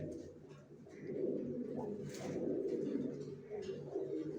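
Several racer pigeons coo softly and continuously in a loft, their low, rolling calls overlapping in a quiet, enclosed space.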